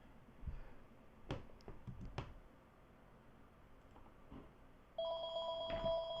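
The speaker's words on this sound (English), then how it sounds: "the phone rang and it happened to be in my room" A telephone rings in a room during a computer game session, its steady electronic tone starting partway through after scattered clicks and taps, fairly clear over a quiet background with no talking.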